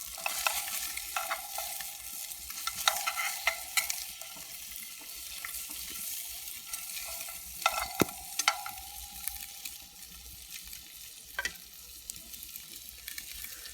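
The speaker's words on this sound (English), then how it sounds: "I'm gonna flip my fish over now so they can start cooking on the other side as well." Fish sizzling while cooking outdoors, a steady soft frying hiss broken by several sharp clinks and scrapes, with no talking.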